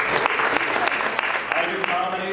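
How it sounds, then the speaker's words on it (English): A comedy club crowd claps for a comedian's fiancée, a brief burst of steady applause with some voices underneath. "Clap for her."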